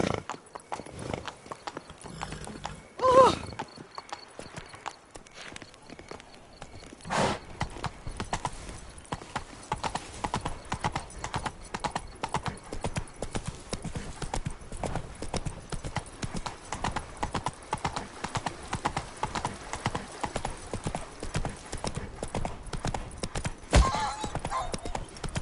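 Roach the horse galloping in The Witcher 3, rapid clip-clop hoofbeats in a steady rhythm running through nearly the whole stretch, with a louder burst and a brief whinny-like cry early on.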